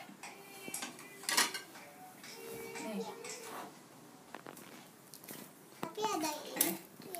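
Cutlery clinks and scrapes against a plate while a birthday cake is cut at a three-year-old's party, the light taps scattered among children's chatter and nearby adult voices.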